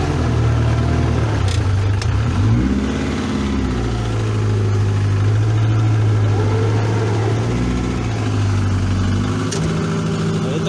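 A homemade tractor's engine runs steadily while plowing manure and green manure crops into the soil, with a loud, droning low hum that shifts pitch slightly as the load changes and stays close and continuous throughout.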